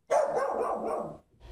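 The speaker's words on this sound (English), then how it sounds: "Her dog barking for hours and hours and hours from 1 to 5 in the morning" A neighbour's dog barks late at night, in the small hours of the morning. One loud, close, strained bark-like cry runs for about a second, then a quieter sound begins just after it.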